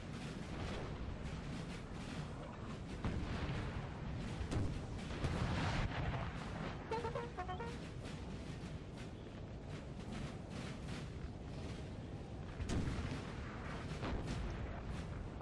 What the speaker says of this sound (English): we're going to try and hit these artillery batteries